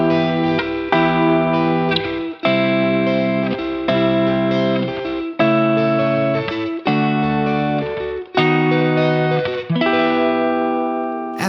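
A chord progression built from several secondary dominant chords, played as a run of sustained, evenly spaced keyboard chords, each held about a second or more with clear attacks and a rich, steady tone.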